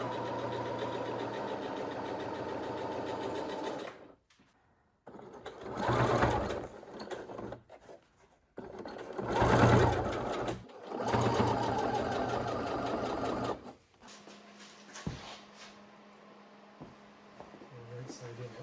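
A sewing machine stitching seat upholstery for a 1946 Willys CJ2A Jeep, running in several loud whirring bursts separated by short pauses, close up, with a voice talking at times.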